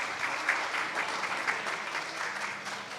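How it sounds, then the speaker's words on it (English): A civic forum audience gives a round of applause for the event's sponsors, a full, sustained clapping throughout with no talk over it. "So how about a round of applause for all of our sponsors?"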